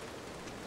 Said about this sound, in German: Und wir sitzen da und es regnet.